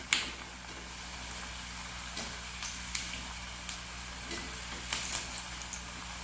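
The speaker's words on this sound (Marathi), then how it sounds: "आता मी तेल तापायला ठेवलेलं आहे. आता आपण याच्यात तळून घेऊया." Kothimbir vadi pieces frying in hot oil, a steady soft sizzle with small crackles and pops throughout, close and moderately quiet with no talking.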